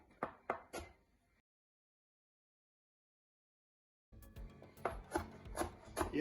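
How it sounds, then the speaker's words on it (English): Peeled, washed ginger roughly chopped with a knife on a cutting board: a few sharp close knocks, a stretch of silence, then a quicker run of crisp chops and scraping. "I already wash and peel my ginger in advance, so I'm just gonna roughly chop it also."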